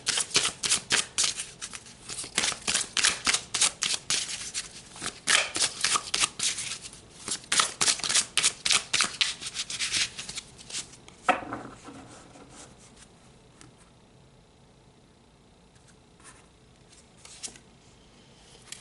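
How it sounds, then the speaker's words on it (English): Tarot cards being shuffled by hand, a rapid run of crisp riffling flutters for about ten seconds, then quieter sliding and handling as cards are drawn. "So let's pull some more cards."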